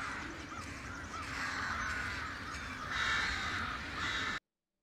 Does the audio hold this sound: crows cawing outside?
yes